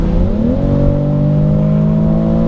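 A BMW X3 M40i engine rises in pitch as it accelerates, then holds a loud, steady drone close by with no talking.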